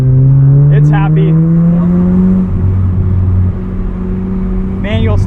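A 1990 FC Mazda RX-7 rotary engine driving on a canyon road, a loud steady drone that rises in pitch through a gear, heard from inside the car while someone talks over it.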